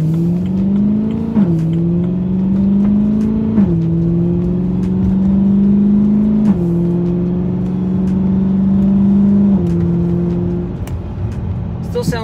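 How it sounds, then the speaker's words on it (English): A BMW E93 M3 convertible's V8 heard from inside with the top up, steady engine drone climbing in pitch through repeated gear shifts, each upshift dropping the tone, with someone talking over it. "You hear a little bit more of an induction noise instead of the exhaust noise in the back."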